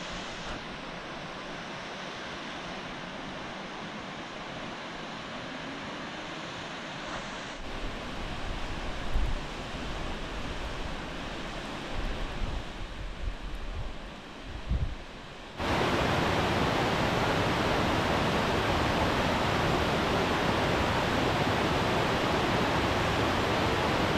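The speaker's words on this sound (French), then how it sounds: "Et on commence à entendre la cascade." A waterfall cascade in the Dordogne valley on a Massif Central hike makes a constant rushing roar. The sound is moderate at first, shifts a few times, then becomes suddenly louder and fuller as if heard from closer.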